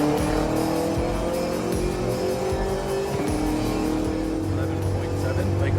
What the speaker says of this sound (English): Jaddy takes part in the challenge behind the wheel of his BMW M5